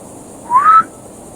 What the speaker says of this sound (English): Try to catch this other whistle.